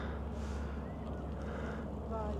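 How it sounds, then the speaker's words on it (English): Cruise ship engines running while docked in port at Portland, Weymouth, UK, a constant low rumble heard from a nearby viewing area, with faint wind noise over it. "You can hear the engines on the ship."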